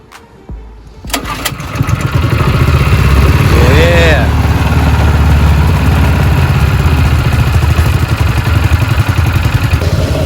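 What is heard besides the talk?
lawn care spray rig engine running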